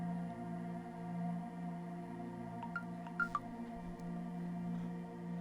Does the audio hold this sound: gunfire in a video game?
no